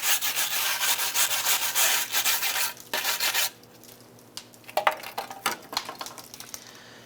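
Rapid, loud back-and-forth scraping as rust is scaled off a brake backing plate on a 2003-2012 Chevrolet Colorado, steady for about three seconds, then sparser, lighter strokes and taps.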